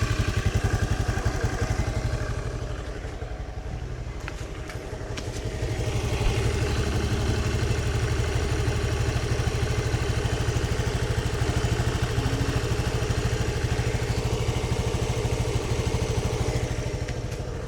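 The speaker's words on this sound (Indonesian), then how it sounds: "Suara mesin seperti ini." A 2014 Honda Beat FI scooter idling smoothly, its engine putting out a close, even, continuous putter with a light mechanical clatter throughout.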